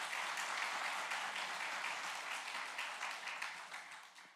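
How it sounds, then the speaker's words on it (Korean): A church congregation at a Sunday morning service applauding, steady enthusiastic clapping from many hands in a reverberant hall, gradually thinning toward the end. "큰 박수 한번 해주시기 바랍니다"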